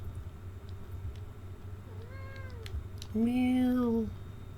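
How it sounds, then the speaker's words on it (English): A cat meows twice, close and fairly loud: a short, softer mew followed by a longer, stronger meow with a falling pitch, over a steady low background hum. "Meow."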